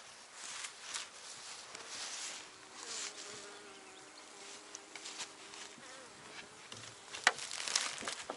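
Dense, continuous buzzing of many honeybees up close at an open hive, a steady swarm hum with a few louder passes near the end.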